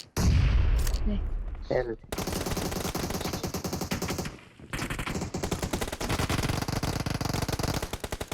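Loud, dense automatic gunfire from the mobile battle royale game PUBG Mobile, near and sustained in rapid bursts with a brief pause midway, plus a few separate shots at the start.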